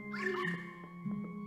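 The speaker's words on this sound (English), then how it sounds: "Ghost puppy." In Luigi's Mansion 3, a ghost puppy gives a short whimpering bark that rises and falls, set against sustained game music tones.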